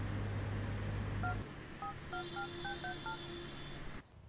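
A telephone number is dialed on a keypad, a quick series of separate dual-tone beeps in uneven rhythm, followed by a long steady ringback tone, heard clearly over low background noise.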